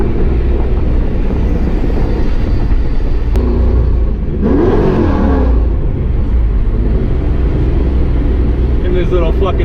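Supercharged LT1 engine in a 1995 Pontiac Firebird Trans Am, a loud, close, steady roar heard from inside the car, with a brief climbing rev near the middle under talk.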